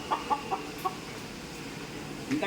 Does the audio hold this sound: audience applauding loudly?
no